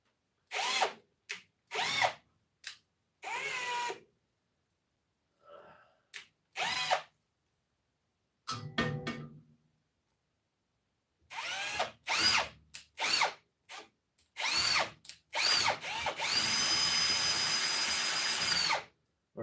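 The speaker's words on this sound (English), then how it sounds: "This is where you guys see me break a drill bit" A power drill whirs in repeated short bursts with brief pauses, then runs in one long continuous stretch at the end; loud and close, with ratcheting clicks mixed in.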